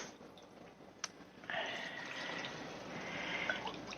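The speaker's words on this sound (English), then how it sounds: "Going to add a little bit more broth to this." Broth poured into a pot of simmering turkey and dumplings, a steady liquid pour that starts after a soft drip and runs continuously, close and moderately loud.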